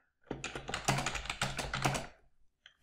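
Keys clacking on a computer keyboard as a spreadsheet shortcut is entered, a quick close burst of several presses over about two seconds, then quiet.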